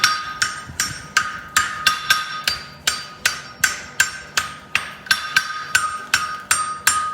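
A hammer strikes steel in steady, ringing blows as a toe bend is forged into an egg bar horseshoe, around twenty evenly spaced loud metallic hits close by, with no talk.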